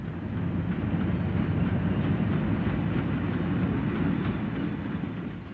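A 1959 British diesel train running on the railway, a dense steady rumble and rolling wheel noise, loud and continuous, with a slightly dull vintage recording quality.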